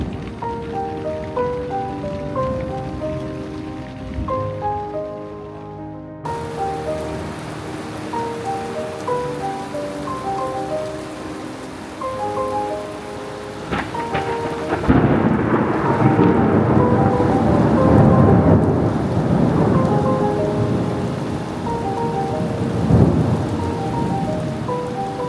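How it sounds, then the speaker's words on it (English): Heavy rain pours steadily by a riverside camp in the mountains between Manali and Jispa, with thunder rumbling and the downpour intensifying partway through, loud and close with no talking. "Just as we reached the riverside, it started to rain and we had to return back to our tents."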